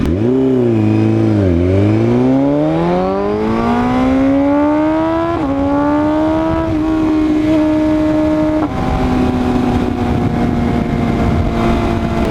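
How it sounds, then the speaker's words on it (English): A Maserati, a BMW M4 and an Audi RS3 accelerate hard together in a race, a loud, continuous engine roar climbing steadily through the gears with brief drops at each shift. "We got Maserati, M4, Maserati, and the Audi. We're gonna gun it."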